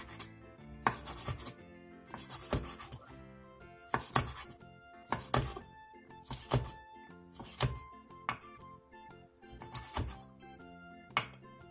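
A knife chops through a squid body on a cutting board, slicing it into rings 0.5 to 1 cm thick, about a dozen crisp, close thunks at a steady, unhurried rhythm with no talking.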